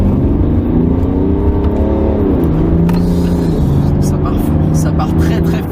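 A BMW 335d with the M Sport pack accelerating hard, its engine note rising loud and close in a steady surge, with excited voices talking over it.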